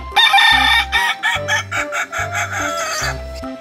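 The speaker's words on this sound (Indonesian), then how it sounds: "Wah, ada induk ayam teman-teman." A toy mother hen plays an electronic farmyard tune of synthesized clucks and a crowing call, loud and close, with a repeating pulsing bass rhythm underneath.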